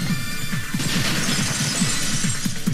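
A shatter sound effect from the DanganRonpa 2 video game breaks loud and sharp over rhythmic game music, with a bright crash of glassy fragments and no talk.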